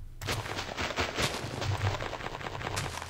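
Dense, continuous barrage of video game explosions, booms and crackling blasts, loud and close, with no pauses across the whole stretch.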